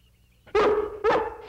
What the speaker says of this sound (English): That sounds like Lassie